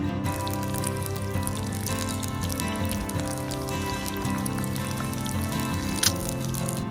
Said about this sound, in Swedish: 3 grader varmt och regn.